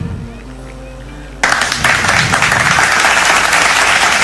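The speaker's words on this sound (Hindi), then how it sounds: "Give a big hand." After a second of low hum and murmur, loud applause suddenly bursts out from the audience at a school games activity, honouring the students' game organizers. The clapping stays dense and steady to the end.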